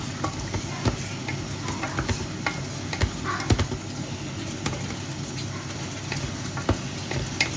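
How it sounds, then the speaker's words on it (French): Vegetables and small pieces of meat are stirred in a pan, a soft steady sizzle under repeated clicks and scrapes of the spoon against the pan, close and fairly quiet. "Je vais bien mélanger nos petits légumes, nos petites viandes."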